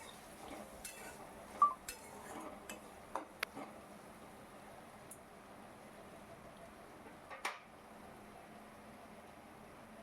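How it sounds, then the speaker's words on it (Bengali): Lentils being stirred with salt and turmeric in a pan for a vegetarian potol curry: soft, faint spoon clinks and scrapes against the metal at irregular moments, quiet throughout with no voices. "আবার এই ডালটাকে আবার একটু কিছুক্ষণ ধরে নুন হলুদের সাথে নাড়াচাড়া করে নিচ্ছি"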